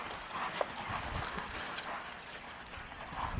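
Horse hooves clip-clop at a steady working gait in an arena during cowhorse training, moderately close with a distinct sharp hoof strike early on.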